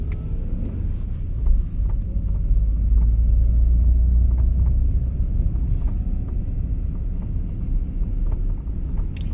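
Steady low interior rumble of a car driving along a road, with continuous road and engine noise and occasional faint ticks and bumps throughout, no voices.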